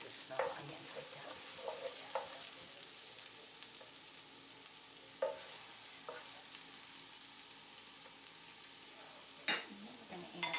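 Onions frying in a pan for a 1980s beef and noodles recipe, a steady close sizzle broken by several sharp scrapes and clicks of stirring.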